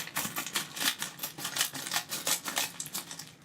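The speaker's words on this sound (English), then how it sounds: "I'm just going to cut it open, and hopefully I don't cut anything on the inside." A blade slices open a cardboard delivery box for a lettering kit, making quick rhythmic scratchy rasps close by, repeating steadily for a few seconds with no talk.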